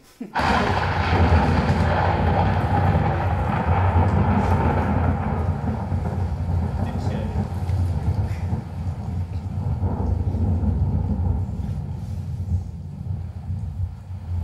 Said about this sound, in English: that, in a roundabout sort of way, is the reason for the tempest. I mean the storm